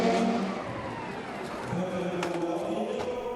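The number 7 Toyota and number 20 Porsche endurance race cars pass during the 2014 6 Hours of São Paulo, engines droning at a distance with a rising and falling tone.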